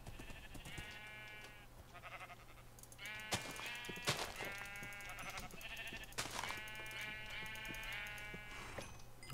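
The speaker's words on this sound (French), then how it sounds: "Au moins on a trouvé des moutons." Sheep bleat repeatedly in the video game Minecraft, several overlapping bleats over steady background game music, moderately loud and close, with no talking.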